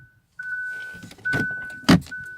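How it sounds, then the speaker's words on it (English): A Hyundai Ioniq switching off: a steady electronic tone runs through most of the moment, broken by two bursts of broadband mechanical noise, the second louder and sharper near the end, heard close up inside the cabin with no talk. "now let me turn off the car"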